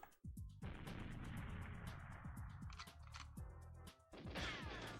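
Grenade blast in the GoldenEye 007 video game: a sharp crash then a long noisy roar of debris and smoke, with scattered clattering impacts and a second burst near the end.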